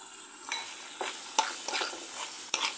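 Sweet potatoes frying in hot oil in a pan and being stirred, a steady close sizzle punctuated by several sharp utensil scrapes and taps.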